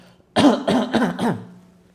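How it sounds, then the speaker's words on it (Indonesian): A burst of four harsh coughs in quick succession during a group healing therapy session, close and fairly loud, trailing off into a low hum. "Dorong ke depan, batuk-batukan."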